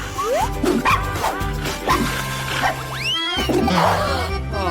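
A dog on a television show about dogs barks and yips repeatedly in sharp, loud bursts, mixed with whimpering and swooping cartoonish sound effects, with a voice faintly underneath.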